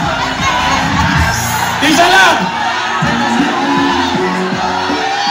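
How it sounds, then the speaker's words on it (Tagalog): Dense crowd at a Team Evo and Team Grafitee motorcycle event at SM Butuan mall, shouting and cheering loudly and continuously, with overlapping voices and whoops filling the space. "Sumigaw ng hammerman."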